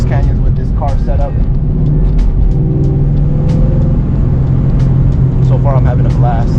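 A 2003 Ford Mustang running through canyon roads, with a loud, steady engine drone heard from inside the car, rising in pitch in places, and bursts of faint tire or road noise on top.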